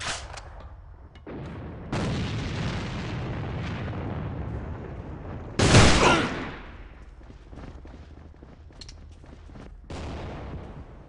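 Grenade blast and gunfire in the shooter game A.V.A during a random match, heavy booming bursts and rattling shots in clusters, with one loud sharp explosion standing out mid-sequence, no talking.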